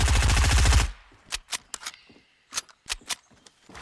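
Rapid automatic gunfire in the video game Fortnite, a fast burst of shots lasting just under a second, then a few scattered single sharp reports and clicks.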